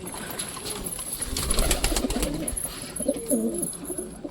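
Pigeons cooing softly and repeatedly, with a few wing flaps nearby amid quiet outdoor background noise.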